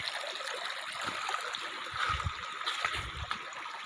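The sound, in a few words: mountain stream flowing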